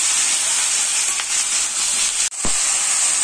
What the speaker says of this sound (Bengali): এবার এটা আমি নেড়ে চেড়ে ভালো করে ভেজে নেব।